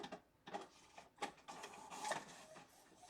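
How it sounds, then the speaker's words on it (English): An aging printer squeals and grinds through several uneven bursts of mechanical whirring and sharp high squeaks, faint and set in a quiet room. "Printer just squealed. Probably about time for a new printer too."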